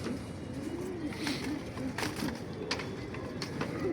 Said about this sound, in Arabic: هوريكم بقى فرد حمام استرالي للمزاج